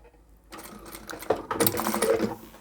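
A sewing machine runs a short burst of back stitching through fabric while sewing a craft pouch, a close, steady mechanical whir that starts after a brief quiet moment and continues alone.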